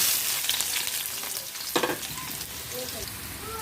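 Onions hit hot oil in a pan, setting off a dense, crackling hiss that swells with a brief louder burst, then settles into continuous close frying.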